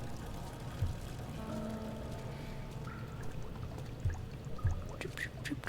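Water drips in the horror game Amnesia, a few sparse isolated drops falling over a low, steady ambient rumble, with no speech.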